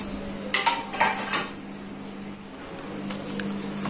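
Greased metal cooking pots and pans clank and clatter in a few close, sharp knocks in a home kitchen, then quieter handling over a low steady hum.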